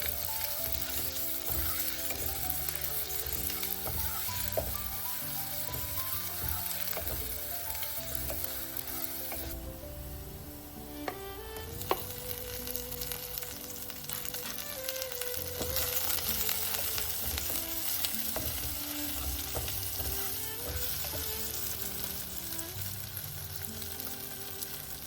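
Whole spices, red onion, garlic, ginger, pandan, curry leaves and tomato tempering in hot oil give a steady, loud sizzle and crackle throughout, with occasional stirring clinks and no talking.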